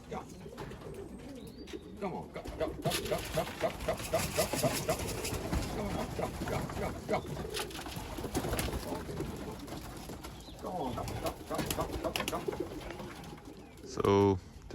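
Belgian racing pigeons cooing at a loft after a 100 km race, soft repeated coos under steady outdoor background noise with voices, ending in a brief louder burst.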